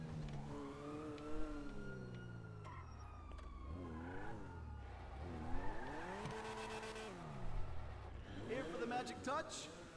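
A Grotti Stinger classic sports car in GTA 5, its engine revving and climbing through gears in repeated rising and falling sweeps, fairly close, while someone talks over it.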